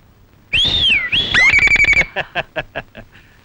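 Someone whistles loudly and close by, first a smooth rising-and-falling tone, then a quick run of short, sharp chirps that gradually fade.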